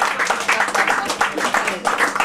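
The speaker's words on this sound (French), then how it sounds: "on peut l'applaudir aussi" A brief burst of applause, steady clapping from a small group continuing throughout.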